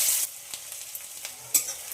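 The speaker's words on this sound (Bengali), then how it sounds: "পেঁয়াজটা একটু হালকা ভাজা ভাজা করে নিতে হবে।" Finely chopped onions fry in hot oil in a pan, giving a quiet steady sizzle broken by a few scraping stirs, with no talking.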